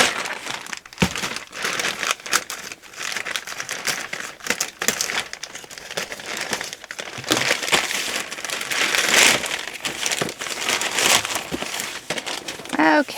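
Plastic bag crinkles and rustles loudly at close range as a yarn subscription box is pulled out of it, a dense run of crackling and crumpling bursts with brief pauses.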